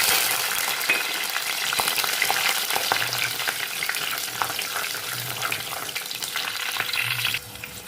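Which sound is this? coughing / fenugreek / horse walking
fenugreek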